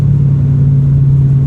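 A Toyota GR Yaris engine on the move in Malaysia, a loud, close, steady droning rumble with a firm low hum, held evenly through the short stretch without voices.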